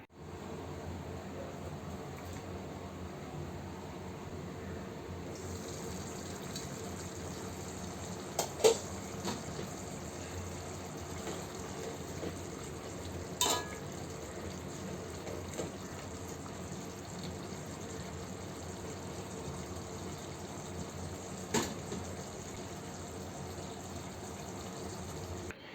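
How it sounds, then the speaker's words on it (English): Water poured into a pot of bitter gourd tamarind curry (Pavakkai Puli Kuzhambu), a steady close gush lasting over twenty seconds with a few small clinks along the way. "I'm going to add half a bowl of water."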